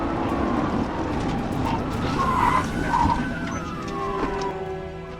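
A stolen SUV travelling near 90 miles per hour slams into a family car at night, rendered as a loud, continuous wash of skidding tyre and grinding metal noise with no clear single impact, steady throughout.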